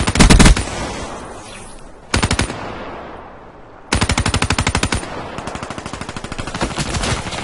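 Automatic weapon fire in Call of Duty Black Ops 3, loud rapid bursts of machine-gun shots separated by short pauses, the longest burst running over a second.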